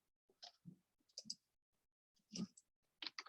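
A few quiet, sharp mouse clicks on an input button, spaced irregularly over near silence.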